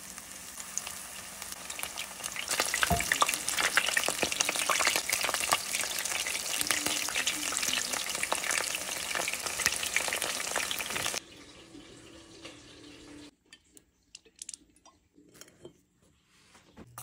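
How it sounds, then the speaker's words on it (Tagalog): Garlic and onion sizzle steadily in hot olive oil in a pan for several seconds, with occasional stirring scrapes, then the frying drops to a quieter hiss before near silence. "nag-brown-brown na konti yung ating nilalagay na garlic"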